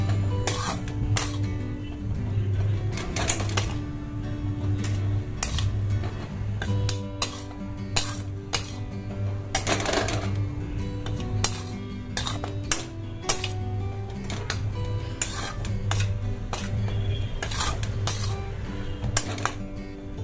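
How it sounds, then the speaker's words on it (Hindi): Ghee is worked into a soan papdi mixture with a spoon in a pan, a busy run of close metallic clinks and scrapes with no voices. "इस घी को इसमें अच्छे से मिक्स करना है"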